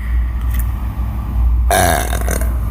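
A man lets out a single loud, close burp partway through, rising abruptly over a quiet indoor background with no talking.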